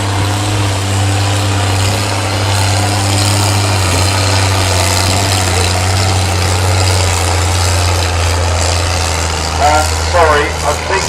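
A vintage tractor engine runs at a show, a steady loud low rumble close by, throbbing unevenly toward the end as if working a little harder, with people talking over it.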